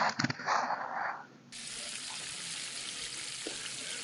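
Marinated chicken hits hot spiced oil in a pan for chicken kosha. A short burst of clatter and rushing sound gives way to a steady, bright sizzle that continues on its own.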